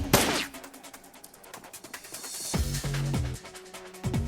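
Video game gunfire from Shadowrun Returns: a sharp shot at the start, then a second burst of cracks midway with ringing metallic tails and short echoes, loud and close, with no talking.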